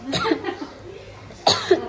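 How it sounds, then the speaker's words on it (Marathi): A person coughs in a home kitchen during cooking, a couple of sharp bursts near the start and a louder cluster toward the end, with quieter voiced sounds in between. "तुझा खोकला माझ्याकडे आला"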